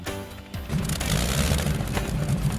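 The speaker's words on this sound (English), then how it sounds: "started a radial engine to a nice rumble" The radial engine of an almost 60-year-old de Havilland Canada DHC-2 Beaver floatplane catches and settles into a loud, continuous rumble with a fast, pulsing throb that runs to the end.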